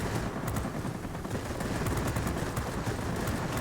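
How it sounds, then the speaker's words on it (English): Wing-mounted .50 caliber machine guns on a Ki-61 fighter fire in World of Warplanes, a dense continuous rattle of rapid shots that holds steady and loud for the whole stretch, with no voice over it. "my 50 cal machine guns on the wings"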